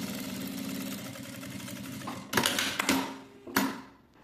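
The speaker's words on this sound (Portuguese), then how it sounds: "E vou passar uma costura bem na beiradinha em toda a volta." A sewing machine stitches along the edge of a fabric clutch, a steady close mechanical whirr running continuously, broken by a few louder thumps and clicks as the fabric is handled.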